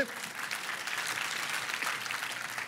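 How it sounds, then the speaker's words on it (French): Church congregation clapping throughout, a steady, fairly loud wash of many hands that holds evenly without a break. "J'aime l'Église qui applaudit simplement à la parole de Dieu."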